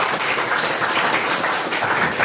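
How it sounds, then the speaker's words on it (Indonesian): Students in a classroom get a round of applause, a dense burst of hand clapping from a group that holds steady and close throughout the short stretch. "tepuk tangan dulu untuk mereka"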